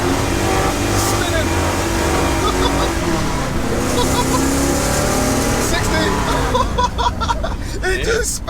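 A 1969 Pontiac Trans Am Ram Air III with a 6.6-litre engine launches hard, its loud engine roaring steadily as the tyres spin, with people talking and shouting nearby throughout.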